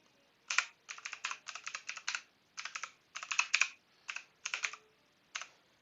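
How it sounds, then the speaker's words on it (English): Quick bursts of typing on a computer keyboard as website addresses are entered, crisp close key clicks in short clustered runs separated by brief pauses. "type in the websites you wish to block"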